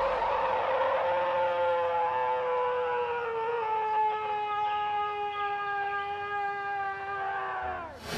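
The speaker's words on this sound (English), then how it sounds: "It's a long, drawn-out howl." A long, drawn-out howl of an unidentified animal in the woods of northern Illinois rings out for about eight seconds as one sustained, slowly falling wail that ends abruptly, loud and close with no talking.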